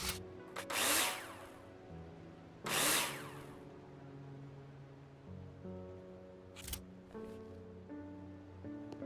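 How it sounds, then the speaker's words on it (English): In a video game, two loud bursts of a drill screwing profiles into ceiling and floor, followed by a shorter whir, over a soft tonal musical background. "place them in the hologram and screw them in with a drill"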